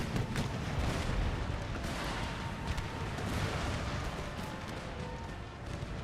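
Round-shot cannon fire from artillery in an Empire: Total War battle, a dense, continuous wash of distant booms and gunfire crackle with no clear pauses.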